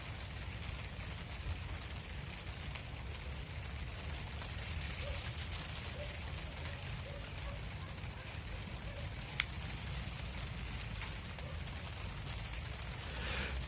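Steady rain patters softly and continuously, a faint, even wash of drops with one brief sharp tick partway through.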